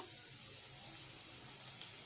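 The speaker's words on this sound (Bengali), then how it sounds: "হলুদ গুঁড়ো দিয়ে ভালো করে আমি আলুটাকে নাড়িয়ে চাড়িয়ে নেব আলুটা আমার ভাজা হয়ে গেছে" Potatoes frying in a pan with turmeric powder as they are stirred, a steady close sizzle with soft scraping, continuous and unbroken with no voices.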